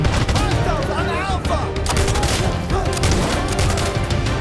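Rapid bursts of gunfire crackle nonstop in the military shooter game Insurgency: Sandstorm, with overlapping automatic fire and heavier booms packed densely throughout, loud and close.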